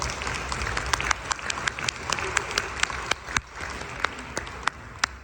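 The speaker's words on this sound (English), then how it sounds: "give a round of applause for the panel" Festival audience at a zero waste event applauds a panel, a modest spread of clapping with sharp individual hand claps standing out over a steady murmur, fairly close.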